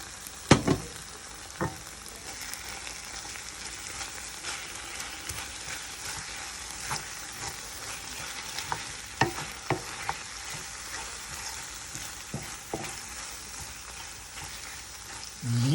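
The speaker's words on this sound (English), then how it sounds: "You add it to the grilled onions and you let it cook down." Grilled onions sizzle and fry in a pan as balsamic vinegar cooks down, a steady crackling hiss with scattered louder pops and stirring scrapes throughout.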